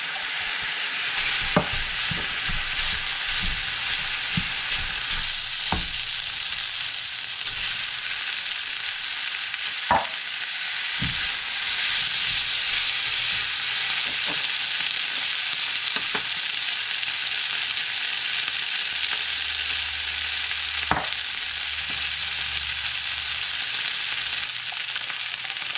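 Rice stir-fried in a pan with soy and Worcester sauce and a little ginger gives a steady, loud sizzle that runs on throughout, with periodic sharp clacks and scrapes of a utensil tossing it.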